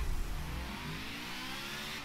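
A car engine in Forza Motorsport 7 on PC revs hard and holds a loud, sustained, buzzing drone with rising pitch for about two seconds, heard alone with no talk.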